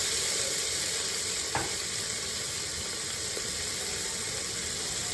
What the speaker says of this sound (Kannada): ಆಲೂಗಡ್ಡೆ ಹಾಕೊಳ್ಳಿ. ಇದು ಸ್ವಲ್ಪ ನೀಟಾಗಿ ಫ್ರೈ ಮಾಡಿದ್ರೆ ಚೆನ್ನಾಗಿರುತ್ತೆ.